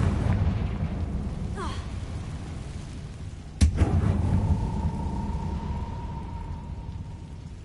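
Explosion spells Bombarda and Confringo cast in Hogwarts Legacy: a deep rumbling boom with a sharp crack midway, then a lingering ringing tone over a low roar.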